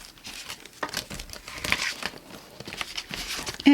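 Paper being cut out into a heart shape for a handmade Valentine's card, with close crinkling, rustling and snipping sounds coming in irregular bursts.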